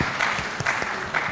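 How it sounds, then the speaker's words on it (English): A conference audience applauding the panelists, close and steady clapping from a crowd that continues through the short moment. "Please give a round of applause to our panelists."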